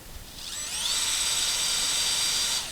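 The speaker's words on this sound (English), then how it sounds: "when we drill our hole" An electric drill bores a hole through a door, spinning up for a steady high-pitched whine of about two seconds before easing off.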